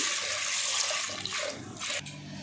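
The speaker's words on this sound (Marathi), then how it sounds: "डाळी मी स्वच्छ अगदी 2 ते 3 पाण्याने धुवून घेतले" Water splashing and swishing in a vessel as homemade dal lentils are rinsed, a continuous wet churning with brief surges, no voices.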